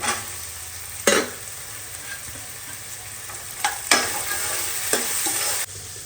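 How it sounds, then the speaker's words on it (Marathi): Carrots and peas sizzle in a hot pan, a steady frying hiss broken by several sharp scraping stirs of the spoon. "आता टाकूया गाजर आणि सोबत वटाणे मटर पण टाकूया"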